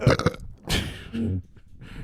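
A loud, close burp rolls out in several guttural surges, starting with a rough crackle and ending in a lower, drawn-out croak, with no speech.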